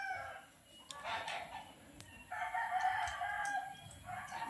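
A fighting cock crows twice, close and loud, each call a rising-then-sustained cry separated by a short pause, with faint household background noise.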